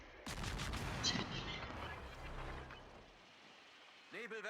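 Naval gunfire volley from a warship in World of Warships, a loud booming blast with a rolling, rumbling tail that fades over a few seconds as a voice talks over it.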